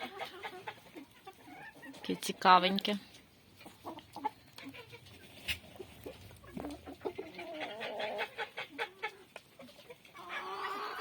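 Chickens cluck softly in a farmyard with turkeys and geese nearby, giving short scattered calls and one louder squawk, while someone speaks quietly between them.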